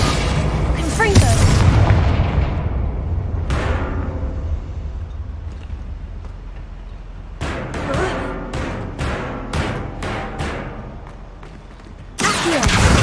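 Confringo blast spells in the Hogwarts Legacy video game go off as deep booming thuds, with one early impact and then a quick series of sharp bursts, followed by another loud blast at the end.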